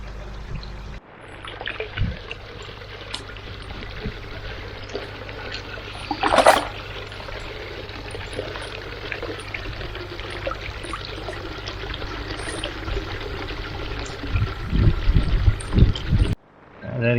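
Water splashes and trickles as a 39 cm Showa koi is released into a garden pond, with a brief louder splash in the middle and more sloshing toward the end over a continuous background hum.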